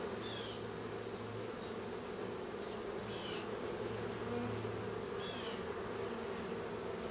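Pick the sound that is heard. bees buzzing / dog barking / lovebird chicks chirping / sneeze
bees buzzing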